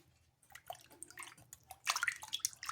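A blender jar and its lid rinsed and washed by hand in a kitchen: water splashes and sloshes, growing louder with vigorous swishing and dripping toward the end, close to the listener.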